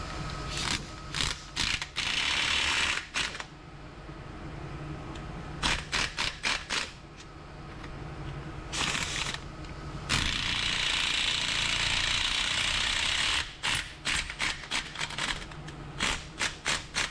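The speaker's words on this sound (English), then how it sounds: "Good thing I had air and a stud extractor tool." Air tool fitted with a stud extractor pulling head studs from a 1940 Packard 356 Super 8 engine block, loud bursts of pneumatic rattling in short repeated runs and one longer stretch, separated by quieter pauses.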